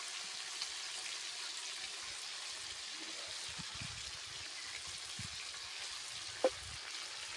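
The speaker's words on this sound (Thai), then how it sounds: "เราจะทอดหมูให้กิน ทอดหมูกินข้าวเช้า" Pork frying in a pan for breakfast, a continuous soft sizzle with faint crackles and one sharp pop, heard close but quiet, with no talking.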